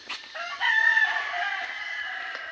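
A rooster crows once in a long, loud call in a backyard, starting with a brief cluck, close and clear with little else around.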